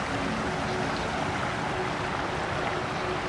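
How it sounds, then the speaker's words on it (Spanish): Floodwater rushes loudly through a normally dry gully in Córdoba after heavy rain, a steady broadband roar that stays constant from a short distance away with no talking. "Hay un sonido súper fuerte de agua, así que calculamos que se debe haber llenado la cárcava."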